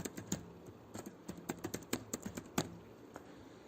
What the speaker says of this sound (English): As of now, I am just typing my own email ID.